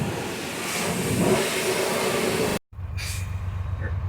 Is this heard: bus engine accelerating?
yes